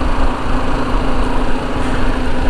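BMW G310 GS motorcycle engine in fifth gear at around 40 km/h, throttle opening gently. It gives a steady, moderately loud single-cylinder drone with slight wind rush and no speech.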